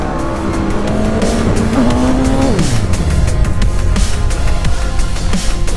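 Jay Leno's McLaren roars past on the Pacific Coast Highway, engine note climbing through revs and then dropping in a sweeping pitch fall, with brief tire noise, loud and close.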